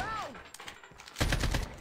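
Video game gunfire as a player shoots a teammate in an online shooter match, a short muffled lead-in followed by a loud burst of rapid shots near the end.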